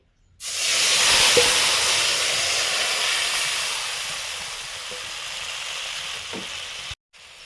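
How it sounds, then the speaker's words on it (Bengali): Water mixed with spices hits a hot pan of mustard oil and fried brinjal for a hilsa curry, giving a loud, steady sizzle and steam hiss that starts abruptly, fades slowly over several seconds and stops suddenly near the end. "গোলা জলটা দিচ্ছি।"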